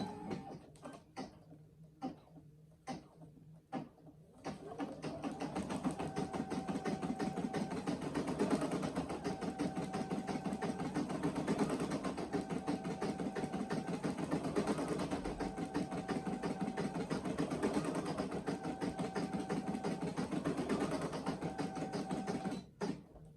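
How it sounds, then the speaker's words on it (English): A Brother SE1900 embroidery machine stitches a throw blanket, a few separate clicks at first and then a steady, fast mechanical rattle of needle strokes running evenly until it stops, faint and close, with no talking. "I'm going to put the foot down, and let's let it embroider"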